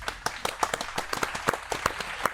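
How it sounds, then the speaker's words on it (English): A small audience claps for podcast guests at Monsta Performance, a brisk run of close, sharp handclaps with no talking over them. "Let's clap it up for Lee and Haitian."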